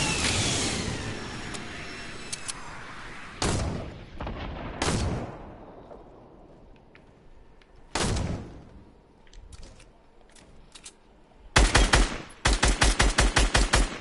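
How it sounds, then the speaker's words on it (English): Gunfire in Fortnite: sharp bursts of shots spread over a background of game noise, ending in a quick rapid volley of repeated cracks, loud and close, with no speech heard. "I shot at a tree."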